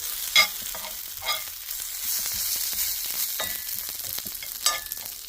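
Potatoes fry with green chilies and onions in a home kitchen pan, a steady sizzle broken by a few sharp scraping stirs, close and fairly loud with no talking.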